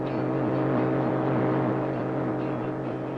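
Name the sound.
Soviet radio jamming noise over Radio Free Europe broadcast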